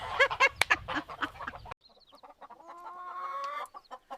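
Loud, rapid honking calls from a flock of geese burst out, break off briefly, then continue more faintly.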